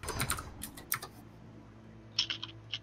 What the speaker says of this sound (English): Joe, why are you typing all this shit out?